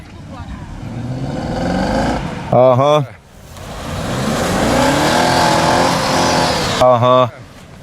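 A Niva off-road car engine revs hard on an off-road trail, a loud sustained roar that rises and falls in pitch, with short bursts of talk breaking in twice.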